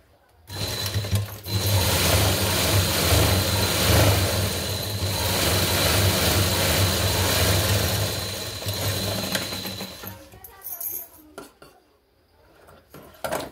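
A sewing machine running a long continuous burst of rapid stitching along a blouse seam, loud and close with a steady mechanical whir, then slowing and stopping into quieter handling clatter.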